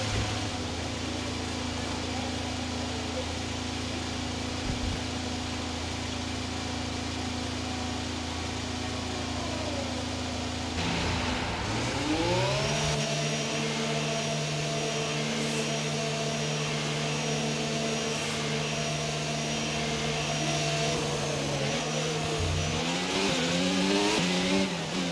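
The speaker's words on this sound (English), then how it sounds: "Okay, engines fired up" Aircraft engines on an Old Fox plane in a flight simulator idle with a low, steady drone, then spool up partway through into a louder, rising whine that stays high and sustained.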